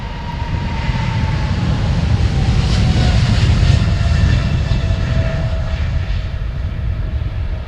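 At Amsterdam Schiphol airport, an airliner roars steadily as it comes in to land, a broad, loud, sustained jet rumble that swells slightly midway.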